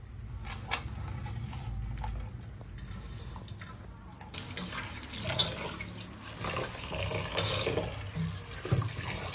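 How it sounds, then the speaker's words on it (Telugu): Coriander leaves rinsed under a running kitchen tap, a steady close splash of flowing water into a sink with small clinks and handling noises throughout, no talking. "కొత్తిమీర 2-3 సార్లు అయితే శుభ్రంగా కడుక్కోవాలండి"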